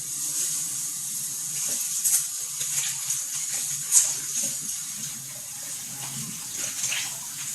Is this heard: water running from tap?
yes